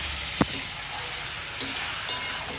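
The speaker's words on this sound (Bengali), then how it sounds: "মাংসটা এর সাথে আবার সামান্য একটু ভেজে নেব" Chicken rubbed with salt and turmeric fries alongside onion and tomato for chicken kosha, giving a constant hiss of sizzling oil with a few sharp spoon clacks against the pot.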